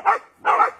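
Dog barking during pager collar haptics training, two short bursts close by with a brief pause between them.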